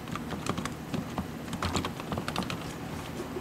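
Steady typing on a computer keyboard, entering text into a CNC machining program: quick clustered keystrokes close by at a brisk, uneven pace, with no one talking.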